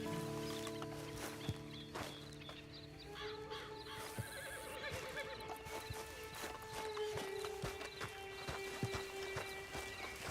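Horse hooves clip-clop at a steady walking pace in the video game Red Dead Redemption 2, with a horse neighing partway through against a quiet outdoor backdrop.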